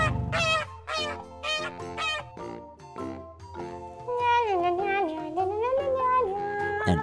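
Several quick, bright honking calls burst out in a cluster, then a steady melodic tune with sliding notes carries on loudly over them.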